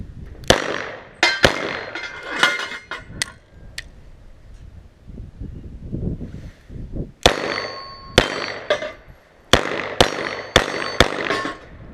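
Sharp, loud gunshots from a Desert Eagle 9mm Baby Eagle pistol ring out in spaced volleys, several separate cracks early, a quieter gap, then a rapid string of shots near the end with clanging steel-target echoes.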